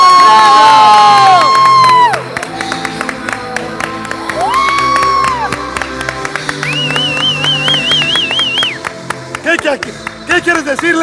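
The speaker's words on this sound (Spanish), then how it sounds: "¡Aplauso para Lorena!" At a fitness sports competition, a crowd cheers and whoops loudly with scattered clapping, shrill whistles and excited shouting voices, close and energetic throughout.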